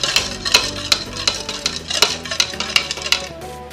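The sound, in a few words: stirring yeast into milk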